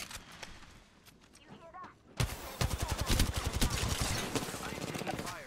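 Apex Legends gunfire hits the player, starting abruptly after a quieter stretch and then rattling on in loud, rapid bursts of shots, with voices talking over it.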